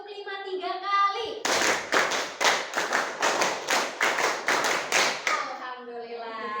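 A class of Indonesian junior high school students claps in unison during a concentration exercise, about ten loud, sharp, evenly spaced claps in a steady rhythm, with a voice speaking before and after.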